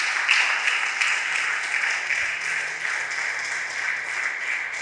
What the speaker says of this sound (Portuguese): Vamos aplaudir o Senhor Jesus.